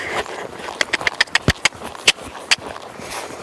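A horse canters under saddle, hoofbeats thudding in an uneven rhythm of sharp, close strikes over a few seconds, with faint background noise between.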